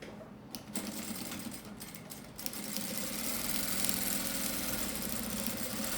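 A sewing machine runs stitching a zipper between two layers of fabric for a bag organizer, a fast, steady mechanical whir after a few short starts and stops.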